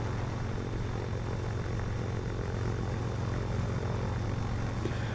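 Light single-engine propeller drone from a Cessna Cardinal 177B at takeoff power in a VR flight simulator, a steady loud low-pitched engine roar held throughout with no talk.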